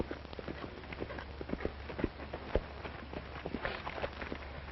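A racehorse gallops on a track in a fast, steady rhythm of hoofbeats at moderate distance over a low, constant background rumble, with no voices.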